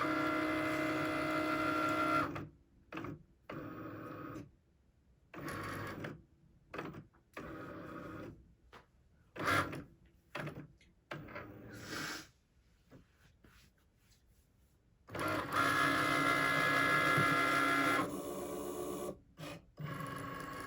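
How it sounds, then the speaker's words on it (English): A Cricut cutting machine works through business cards, with long stretches of loud motor whirring and carriage movement broken by repeated short mechanical bursts and pauses, close and alone. "I mean, it is cutting, detecting your cut sensors."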